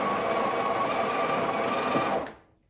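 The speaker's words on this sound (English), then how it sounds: "Personally, I like to grind the single twice." A Breville Barista Express BES870 espresso machine grinds a single dose of coffee beans, a steady close, loud mechanical whir that runs for about two seconds and then cuts off into silence.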